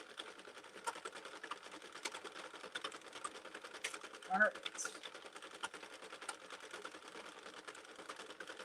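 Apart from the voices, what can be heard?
hand-cranked knitting machine knitting 3-weight yarn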